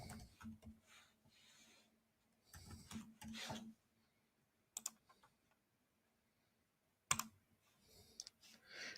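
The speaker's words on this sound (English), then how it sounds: "Get this one typed in." Bursts of rapid clicking on a computer keyboard, several short typing runs separated by pauses of silence, close and fairly quiet.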